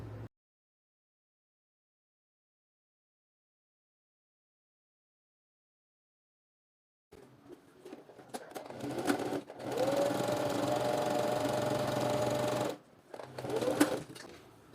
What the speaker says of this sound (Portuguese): nessa parte de cima eu vou costurar com o pé de máquina